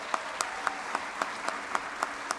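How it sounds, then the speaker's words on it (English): Applause for theatre volunteers at a civic awards evening, a steady spread of clapping with an evenly spaced, louder clap standing out near the front about every quarter second. "let's give them a big round of applause"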